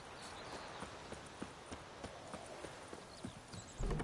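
Roach, a horse in The Witcher video game, gallops with steady clip-clop hoofbeats at mid distance against a busy background ambience, ending in a louder thump.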